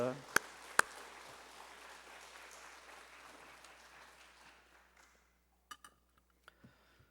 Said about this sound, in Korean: 우리 간절한 은혜를 사모하는 마음으로 박수로 강사님 맞이하겠습니다.